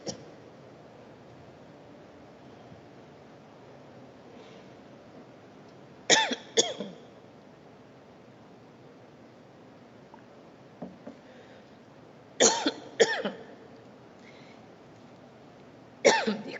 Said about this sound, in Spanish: no me recupero todavía de una tos muy fuerte